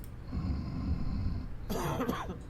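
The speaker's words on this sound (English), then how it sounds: "Okay, so he's definitely coughing." Low, laboured breathing from a sick character in Quarantine Zone: The Last Check gives way to a short, harsh burst of coughing, close and fairly quiet, with no talking.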